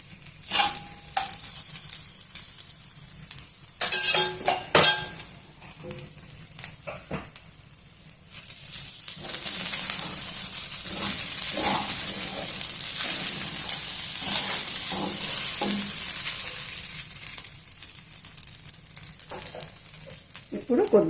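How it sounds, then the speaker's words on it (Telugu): A spatula stirs capsicum rice with ghee in a pan over the heat, giving steady close scraping and soft sizzling. A few sharp clinks come early, then a continuous mixing hiss for most of the stretch. "నెయ్యి కూడా వేసేసి బాగా కలిపేద్దాం"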